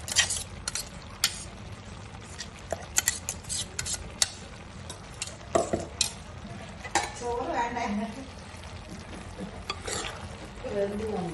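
Aviyal with ground masala stirred in a pot, with a spoon clinking and scraping against the metal in repeated strokes while the mixture simmers and sizzles softly and a voice talks over it.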